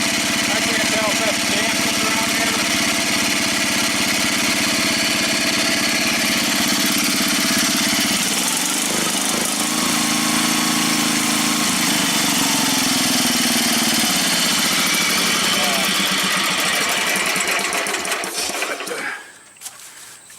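Briggs & Stratton small engine with a leaking Flo-Jet updraft carburetor, running at a steady loud idle close by for most of the stretch before it cuts off at the end.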